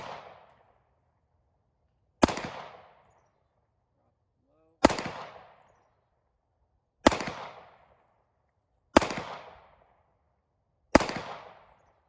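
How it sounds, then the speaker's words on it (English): Glock 43 pistol fired at a shooting range, six sharp loud gunshots spaced about two seconds apart, each with a short decaying echo and near silence between. "5 shots with the Glock, right target."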